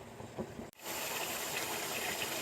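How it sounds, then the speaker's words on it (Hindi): Beef pieces with garlic-ginger paste hit a hot pan for nihari, bursting into a loud, steady hiss and sizzle after a brief pause, continuing without talk. "बीफ डाल करके इसको थोड़ा सा फ्राई करेंगे।"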